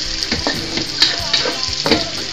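Garlic and onion sauté in oil while making dinuguan. A loud, close sizzle comes with quick, repeated spatula scrapes and stirring knocks in an uneven rhythm, and there is no speech.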